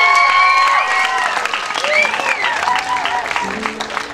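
Audience applause for a performer at a county music showcase, crowd clapping under what sounds like whistles or cheers and bits of voice, loud and close, tapering slightly toward the end.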